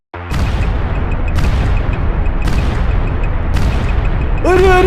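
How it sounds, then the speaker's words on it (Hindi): Bombs explode in an animated Free Fire game story as a series of loud, heavy booms, about four blasts in quick succession with rumbling between them, ending in a whistling, rising tone. "अरे अरे बम फटा रे"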